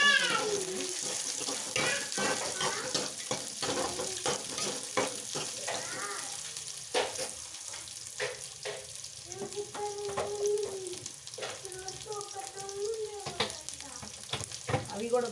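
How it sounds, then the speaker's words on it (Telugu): Chana dal, cumin, urad dal and mustard seeds frying in oil for a pea tempering, giving a continuous hiss dotted with sharp crackles and pops, while a voice speaks intermittently over it. "వేగిన తర్వాత కొంచెం శనగవాళ్ళు, కొంచెం జీలకర్ర, కొంచెం మినపప్పు, కొంచెం ఆవాలు వేసేసి"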